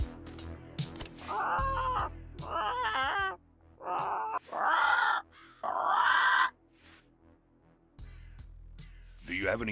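A bird in the video game Yaga gives several loud, hoarse caws and croaking calls in separate bursts against a low droning music bed, with the calls coming close and clear.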